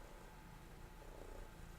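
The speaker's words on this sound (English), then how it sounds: "You can probably hear her purring in the microphone." A cat purring close against the microphone, a steady low rumbling purr that continues without a break through a short moment and stays fairly soft but near.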